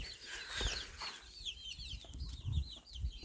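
Soft clucking and chirping of bantam chickens nearby, with scattered shuffling and a brief flutter, fairly quiet overall.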